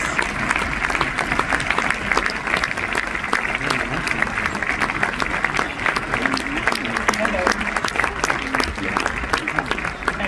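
Sustained audience applause fills a cinema auditorium during a film festival Q&A with the cast, a dense steady wash of many hands clapping at moderate loudness with faint crowd murmur underneath.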